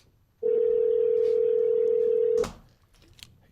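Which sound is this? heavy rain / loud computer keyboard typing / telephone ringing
telephone ringing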